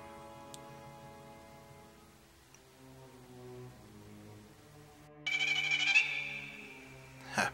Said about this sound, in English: My phone.